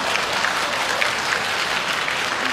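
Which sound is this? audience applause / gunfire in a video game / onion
audience applause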